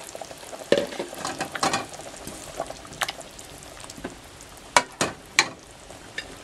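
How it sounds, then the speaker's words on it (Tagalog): Potatoes tipped into a simmering pot of pork and ribs pochero, giving several sharp splashes and clatters over a low, steady bubbling, with a few louder knocks near the end. "Then dito po ilalagay na natin itong patatas."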